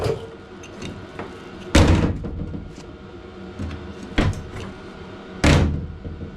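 Three solid door slams on a 1988 Casalini Sulky microcar, each a sharp, close thunk spaced a couple of seconds apart, with quieter handling clicks and shuffling between them.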